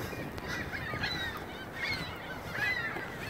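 Several seagulls call in a parking lot, their sharp squawks repeating over a steady low rumble of background noise.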